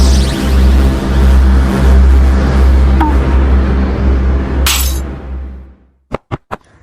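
A wine glass shatters amid a loud, continuous engine-like roar. After a brief silence, a few sharp clinks follow.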